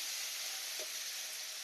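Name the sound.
prawns frying in hot oil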